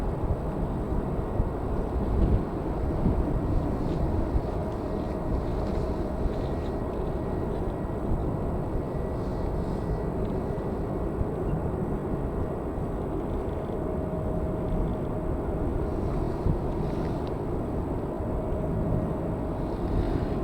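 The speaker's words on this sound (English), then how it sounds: "On approach, we've got a Ryanair 737-800 coming from Budapest." A Ryanair Boeing 737-800 on approach into Manchester Airport, heard as a steady, broad jet roar that holds loud and even throughout, with no voices.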